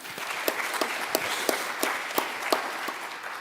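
Audience applause at a talk on nuclear energy, fairly faint, with a handful of distinct claps standing out at a steady beat over a dense wash of clapping.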